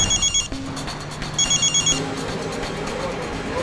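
A telephone rings in an office setting in two short, bright bursts separated by a pause, over a low background hum.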